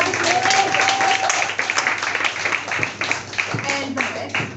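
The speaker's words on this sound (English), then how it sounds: "Applause for Stamatis." Audience applause for a speaker named Stamatis at a newspaper theatre performance in Greece, a steady spread of clapping across the room lasting several seconds with a brief voice at the start.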